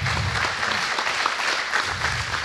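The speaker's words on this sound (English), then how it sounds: "Let's have a big round of applause for Joe" An audience at a talk on a Raspberry Pi beehive monitor gives a speaker a hearty round of applause, thick continuous clapping at even loudness throughout.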